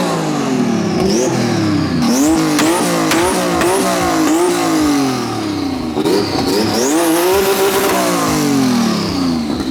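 A drift car, an SE30, revs hard as its wheels spin, the engine surging up and down in repeated loud close bursts with squealing rising and falling tones, no talk over it.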